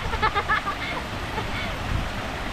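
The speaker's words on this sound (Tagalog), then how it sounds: "May small waterfall." A small waterfall in a park gives a steady broadband rush of falling water, moderately loud and continuous, while people talk over it.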